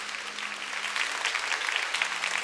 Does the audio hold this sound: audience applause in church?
yes